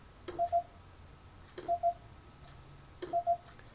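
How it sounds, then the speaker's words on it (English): Faint Morse code tones from a speaker, sent via a Raspberry Pi: a click followed by two short beeps, repeated three times at regular intervals over quiet background hiss. "The first tone will be the initial tone that I hear on a speaker"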